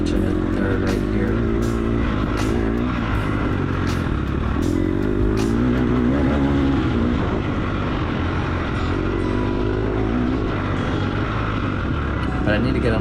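Dirt bike engine during a hare scramble race, a loud, unbroken close-up drone with shifting pitch as the rider works through the gears into third, over constant wind rush.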